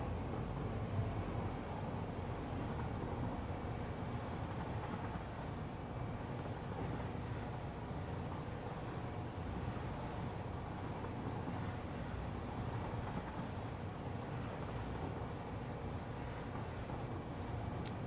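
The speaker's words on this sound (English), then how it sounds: "Riding the train is fun." A train ride in the factory-building game Satisfactory, a steady low rumble of rolling wheels and engine that continues evenly for the whole stretch without talking.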